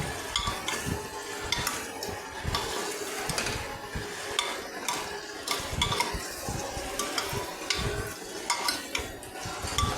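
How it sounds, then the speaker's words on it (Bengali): Jackfruit chunks are stirred and fried in spiced oil, with a steady scraping of a utensil against the pan and soft sizzling running continuously, up close and without voices. "এইভাবে তেল ছেড়ে যাওয়া মশলাগুলো দিয়ে এঁচড়টাকে ভালো করে কষিয়ে নিচ্ছি"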